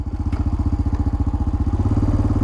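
A 2024 Honda TRX250x ATV with sport clutch idles in gear, its single-cylinder engine putting out a steady, close, loud chugging pulse with no talk over it.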